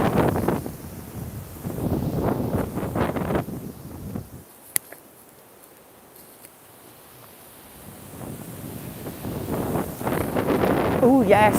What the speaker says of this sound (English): Wind, behave.